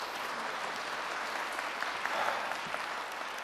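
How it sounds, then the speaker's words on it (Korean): A church congregation applauds to welcome guest pastor Kim Jong-won of Gyeongsan Central Church at a Sunday worship service: steady, fairly distant clapping that carries evenly through the room with a slight swell midway. "우리 나오실 때에 크게 환영의 박수로 환영해 드리도록 하겠습니다"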